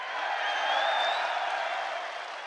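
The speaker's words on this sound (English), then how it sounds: "get a crowd like this cheering for you as well" A large crowd cheers and applauds at the UFC 284 press conference in Australia, a dense, continuous roar of clapping and voices sustained across the whole moment.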